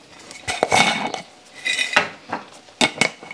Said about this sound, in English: I'm gonna shake them up a little